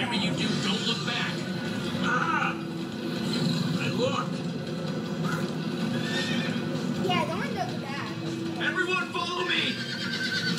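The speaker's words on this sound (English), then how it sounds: "Come on, horses." Horses whinny loudly over a busy rumble of hooves and movement, with voices speaking in the mix throughout.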